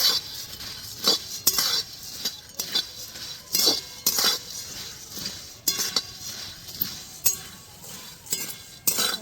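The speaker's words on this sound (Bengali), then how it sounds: "এরকম ঘন ঘন নাড়া দিতে হবে নাহলে খইটা পুড়ে যেতে পারে" Puffed rice is roasted in a wok for coconut naru and stirred briskly, giving a run of sharp clinks and scrapes from the utensil against metal in an irregular rhythm, close and fairly quiet.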